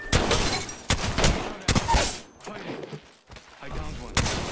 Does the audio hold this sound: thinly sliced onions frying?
no